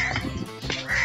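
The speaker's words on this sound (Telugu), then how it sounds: "కాకులు కావు అని వస్తున్నాయి" Crows caw in a short, harsh burst of close, rasping calls outdoors.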